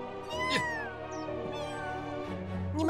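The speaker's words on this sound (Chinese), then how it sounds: "那只可怜的小猫被他吓得一直在叫呢" A frightened cartoon kitten meows again and again, producing drawn-out, wavering, high-pitched cries that are close and clear, with a faint steady hum behind them.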